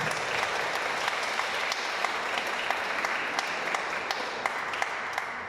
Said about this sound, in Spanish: Aplauso para la joven.